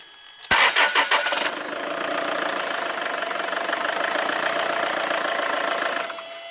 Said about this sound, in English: Ian, do you want to crank it over